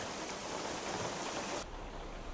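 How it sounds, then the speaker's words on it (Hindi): Heavy rain pours down in a steady, dense hiss that fills the scene, its texture shifting slightly partway through. "बारिश में खड़ा है"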